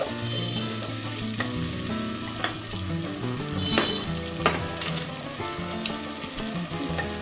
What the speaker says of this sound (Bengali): এখন আমি একটু ভালো করে কষিয়ে নিব যতক্ষণ পর্যন্ত মশলার উপরে তেল ভেসে না যায়